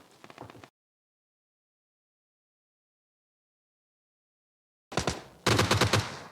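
Gunfire in the PUBG Mobile battle royale game: a short burst at the start, then silence, then dense rapid automatic fire near the end, loud and close.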